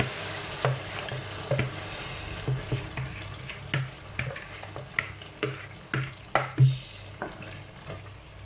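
Crushed tomato sauce cooking in a pot gives a quiet, steady sizzle and bubbling, broken by a regular series of soft clinks and stirring knocks roughly every second.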